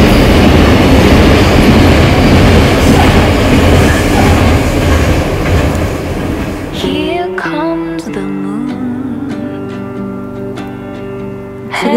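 A train passes right behind a winter campsite, its steady loud rumble filling the first half before fading into squealing wheels and ringing metallic tones as it slows or recedes.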